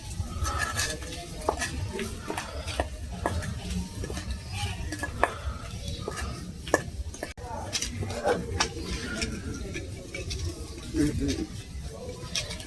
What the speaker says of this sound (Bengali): এবার ভালো করে ছানাটা মেখে নেব এরকম ভাবে